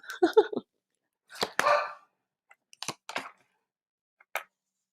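Dogs bark indoors in short, sharp bursts: two loud clusters, then a few quieter, scattered yips spaced over several seconds.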